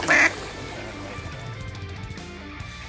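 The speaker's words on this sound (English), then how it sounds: "Look at these ducks." A flock of ducks quacking, with a loud burst of quacks at the start and then a dense chorus of calls that carries on over water sloshing and a faint voice.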